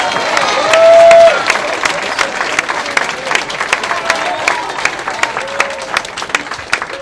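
A town hall audience breaks into applause and cheering, a dense burst of crowd clapping that carries on steadily for several seconds, with a brief raised voice near the start.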